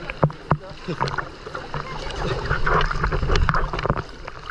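Riders splash along the wild river ride at Rulantica water park, with rushing, gurgling water and bursts of wind buffeting the microphone, plus people's voices and shouts mixed in close by.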